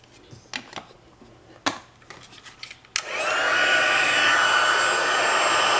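Small handheld heat tool switching on to emboss a stamped card: a few light taps and knocks of handling, then a sudden steady loud whooshing blow that continues unbroken to the end.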